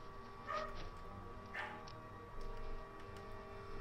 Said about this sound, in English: My fucking dogs are gonna freak out, bark again.